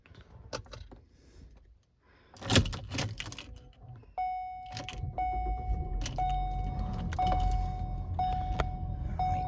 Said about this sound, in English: This car does require a key, so let's start it up.